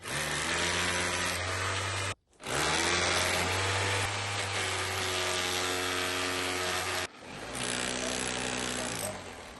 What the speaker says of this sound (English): I'm going to have to try and chisel the wall away.